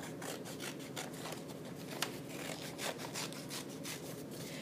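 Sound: scissors cutting out paper mitten

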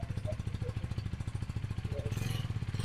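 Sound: KTM Duke 390 3rd gen motorcycle engine idling

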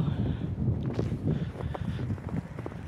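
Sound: wind blowing outdoors in snowfall

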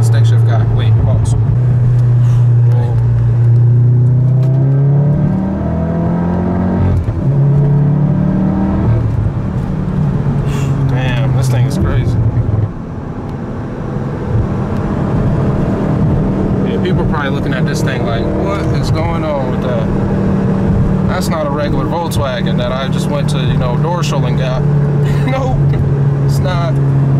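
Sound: twin turbo car revving and accelerating in first gear

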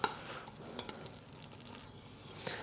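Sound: rice being transferred into a bowl

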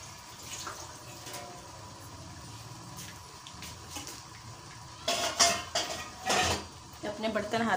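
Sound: washing dishes by hand

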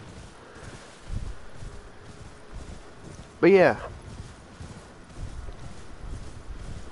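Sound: horse hooves clip-clopping in the video game Elden Ring

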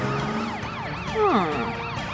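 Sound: cartoon police siren

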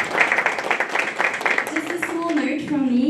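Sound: audience applause for Prof. Scholtz at a seminar

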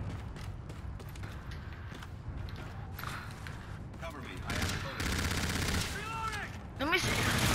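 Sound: gunfire in the video game Call of Duty Infinite Warfare

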